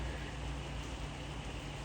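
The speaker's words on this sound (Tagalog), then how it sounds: "Pero umulan." Rain falling steadily in Madrid on a summer morning, a continuous soft hiss of drops on surfaces, even and moderately faint throughout with no voices.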